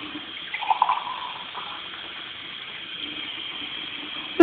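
A sink faucet runs with a steady, faint liquid stream and some gurgling splashes near the start, then a sudden loud knock at the very end.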